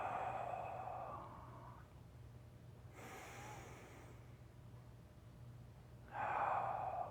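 Deep breaths during a guided relaxation breathing exercise: a soft, airy exhale, then a sharper inhale midway and another strong breath at the end, close and quiet with no speech.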